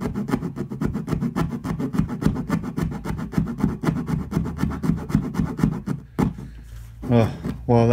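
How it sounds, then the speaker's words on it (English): Soft plastic water tank material being cut by hand with a coping saw blade, rapid rhythmic rasping strokes, close and loud, ending with a few scraping sounds and a brief pause. "with the blade out of a coping saw or a little junior hacksaw, I'm just going to cut this out by hand"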